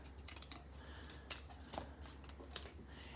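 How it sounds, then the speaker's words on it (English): Scissors cutting a leaf shape out of paper, heard as a few faint, close snips and soft rustles over a low background hum. "So now I'm just going to cut this out"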